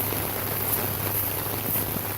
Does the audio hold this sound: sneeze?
no